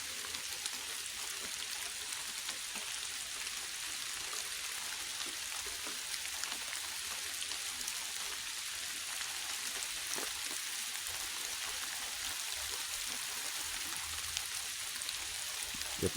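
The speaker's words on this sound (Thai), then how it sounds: "ฝนก็ตกแล้วพี่น้อง" Steady rain falls over a farm garden where eggplants are being harvested, a dense, even hiss that continues unbroken for the whole stretch with no talk.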